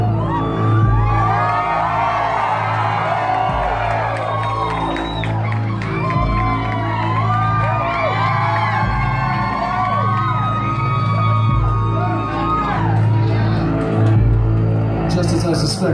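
A concert crowd at The Complex in Glendale, California cheers, whoops and shouts in a loud, sustained roar, with a low musical drone underneath and voices carrying through.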